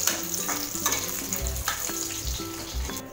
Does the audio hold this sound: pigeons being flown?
no